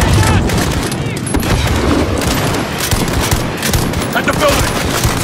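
Call of Duty: Modern Warfare (2019) firefight, with loud, dense, continuous machine-gun bursts and scattered gunshots layered over one another and never letting up.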